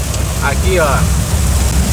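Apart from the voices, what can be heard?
heavy rain falling in Rio Grande do Norte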